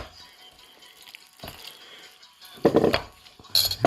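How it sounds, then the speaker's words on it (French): Utensil clinks and scraping as vinegar and warm milk are gently stirred together in a bowl for vegetable and flaxseed bread dough, with a few louder clattering strokes near the end. "je vais mélanger doucement"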